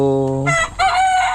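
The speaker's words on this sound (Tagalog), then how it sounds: "So ito na po yung ating mga manok." A chicken crows loudly and close by, a short cock-a-doodle call that breaks into clucking notes at the end, with no talk over it.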